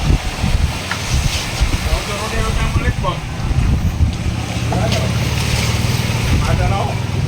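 Passenger boat engines droning over wind and waves on open sea, steady and fairly loud, with voices talking intermittently nearby.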